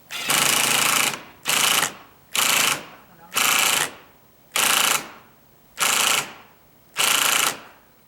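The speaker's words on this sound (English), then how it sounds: "I've got my ratcheted drill here" Seven loud bursts of a ratcheting power drill whirring while tightening roof barge rafters, each about half a second long, separated by short pauses in a steady stop-start rhythm.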